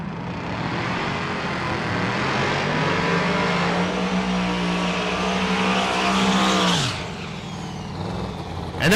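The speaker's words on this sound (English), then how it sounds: "And that Meltdown Firebird sounds spicy." The Meltdown Firebird race car roars past during a race day, its loud engine droning steadily and building. The pitch then drops sharply as it passes by, leaving lingering track noise.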